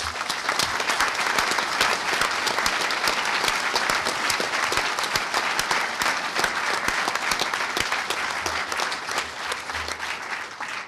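Sustained, even applause from a large conference audience at a hacker convention closing ceremony, thick overlapping clapping that runs steadily throughout with little variation.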